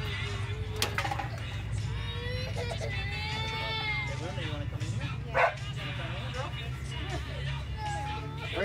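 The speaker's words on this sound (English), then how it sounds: "Freedom, quit your barking, Freedom." A dog barks and yips repeatedly in short bursts, with some whimpering, nearby while people talk over it.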